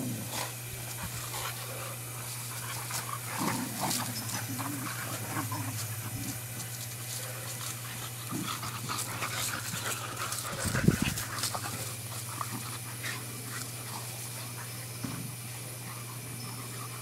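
Two boxer dogs playing, with steady close panting and breathy huffs running throughout, a brief louder scuffle near the middle, and no talking.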